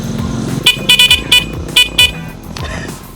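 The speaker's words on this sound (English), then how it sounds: "one of the most things that I like about this is it's got a horn." An Ultron T128 electric scooter's horn sounds in several quick, loud, close beeps in a rapid burst over a steady background hum.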